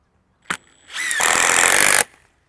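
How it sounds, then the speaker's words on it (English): Power drill driving a Torx-head deck screw into a wooden post while mounting sprinkler risers in a small grape vineyard: a short click, then a loud, continuous whining drive of about a second that stops abruptly. "Now I'm just mounting the risers to the post. I'm using these Torx headed deck screws basically."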